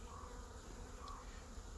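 Honeybees buzz inside a hive with a secondary chamber up top, a continuous low droning hum with a couple of brief higher whines, steady and close.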